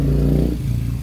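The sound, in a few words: cars and motorcycles passing on street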